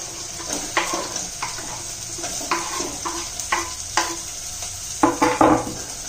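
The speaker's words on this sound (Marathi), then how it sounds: "चांगला होईपर्यंत आपण परतून घेऊया" Onions fry with ginger-garlic paste in a pan for pav bhaji, a soft sizzle beneath repeated scraping stirring strokes at irregular intervals, the strokes growing louder and more frequent near the end.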